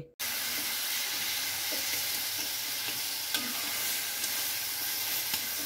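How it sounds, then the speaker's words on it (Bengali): Fried fish fritters being stirred into taro leaves cooking in a pan, with a steady close sizzle and hiss and occasional soft scraping of the spoon throughout. "বড়াগুলো মা কচুর শাকের মধ্যে দিয়ে এবার একটু নেড়ে নেবে"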